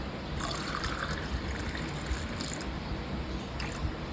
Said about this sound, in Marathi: आता ह्याच्यात आपण प्यायचं पाणी टाकूया